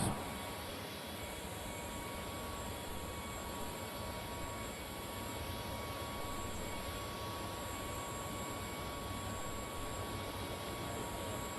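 A turbine-powered pulling tractor at a farm machinery show emits a steady high jet whine and roar throughout, loud and unbroken, with no talk.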